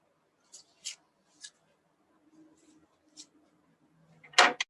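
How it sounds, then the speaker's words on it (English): Several crisp snips ring out at irregular intervals, with a louder, longer cut at the end and faint low rustling between them. "When you start cutting, it's helpful if you start cutting close to the center"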